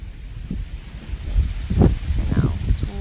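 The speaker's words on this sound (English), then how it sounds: "It's really windy though right now." Wind blows outdoors in steady low rumbling gusts against the microphone, with a soft rustle that rises and falls, loud and close throughout.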